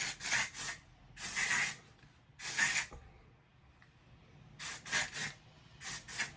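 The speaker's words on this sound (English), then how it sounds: "What is this? Texturizing spray." Texturizing hair spray hisses from an aerosol can onto the top roots of hair in quick bursts, some doubled, with short pauses between them, close up and fairly crisp.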